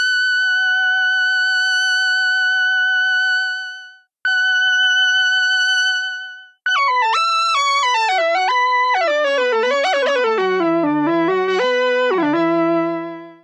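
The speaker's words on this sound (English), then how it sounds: "We have our dry sound and can add an octave below or above." A bright analog synth lead holds a steady note, then plays a melody thickened by octaves added below and above with an octave effect pedal, giving a fuller, layered tone.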